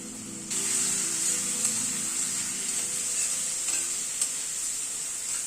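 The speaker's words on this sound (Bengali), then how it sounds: "গুঁড়ো মশলাগুলো দিয়ে একটু নাড়াচাড়া করে নিচ্ছি।" Ground spices, turmeric, Kashmiri red chilli and salt, stirred in a hot frying pan for a light egg curry. A steady close sizzle begins abruptly and carries on with faint scraping strokes and a couple of soft clicks.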